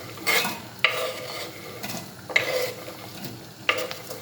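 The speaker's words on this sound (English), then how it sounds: "Then we'll add the onions." Onions go into oil in a pot for a creamy red lentil and chicken soup, sizzling and frying steadily while a utensil stirs with a few sharp scraping clicks, close and moderately loud.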